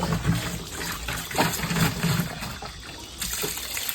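Spring water trickles and splashes steadily in a continuous gurgling flow, fairly close, with no talking over it.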